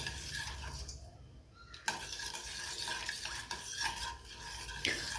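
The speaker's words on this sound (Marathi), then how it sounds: "हे गुळाचं पाणी आपल्याला छान असं मिक्स करून घ्यायचं आहे थोडंसं ढवळत राहिलं ना फास्टमध्ये हा गुळ विरगळला जाईल" Jaggery water and ghee being stirred in a pan, with a continuous soft sizzle and repeated scraping and clinking of the spoon against the metal, close up and without speech.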